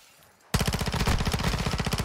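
Sudden burst of rapid automatic gunfire in Call of Duty Warzone DMZ, loud and close, breaking in after a quiet half second and continuing as a steady rattling stream of shots to the end.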